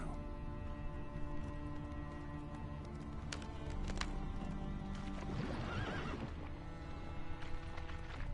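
Horse hooves gallop steadily in the video game The Witcher 3, with occasional snorts and a whinny, close and fairly loud over a constant ambient background.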